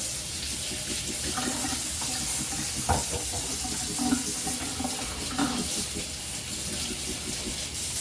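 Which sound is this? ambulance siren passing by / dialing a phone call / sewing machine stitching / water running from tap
water running from tap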